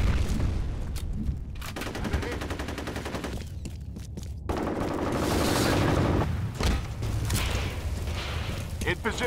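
Automatic gunfire and explosions in the first-person shooter F.E.A.R. during a team deathmatch, dense bursts of shots and booms rattling almost continuously throughout, with brief gaps and steady battle noise.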